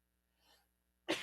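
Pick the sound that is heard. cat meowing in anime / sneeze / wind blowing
sneeze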